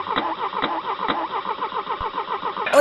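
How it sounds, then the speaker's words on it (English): A car engine cranks with repeated rhythmic starter pulses, fairly close and steady, before catching near the end. "Even the sound of the engine communicates to him."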